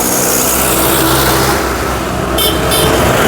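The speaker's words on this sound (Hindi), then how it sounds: "गाड़ी निकल के गई है, बहुत तेज़ शोर मचा रही थी" A vehicle passes loudly on a Da Nang city street, a broad roaring rush of engine and road noise that swells and fades against constant traffic.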